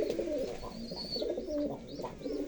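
Soft, repeated cooing from breeding homing pigeons, low and throaty, close by, with a few faint chirps above it.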